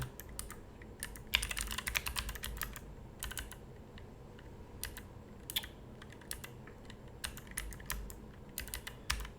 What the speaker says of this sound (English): I think the S key on this keyboard is screwed up